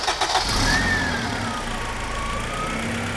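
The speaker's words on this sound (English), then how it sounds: "Let's give it a little start, because after many months, it should actually run." A Honda Civic engine, started after sitting for months, runs at a steady idle close by, with a brief rougher burst at the start before settling into an even hum.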